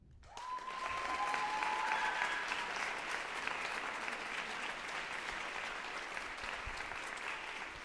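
Steady audience applause fills a dance gala hall, a full, sustained wash of clapping that starts abruptly and holds evenly throughout with no talk over it.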